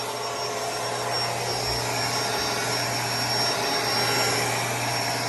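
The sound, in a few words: Bissell Pet Hair Eraser vacuum cleaner running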